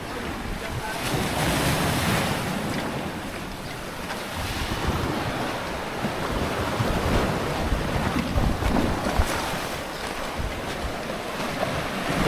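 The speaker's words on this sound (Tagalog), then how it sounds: "Lakas ng alon." Strong ocean surf pounds against a rocky shoreline, a continuous loud roar of breaking waves with gusty wind buffeting the microphone, rising and falling in surges with no voices.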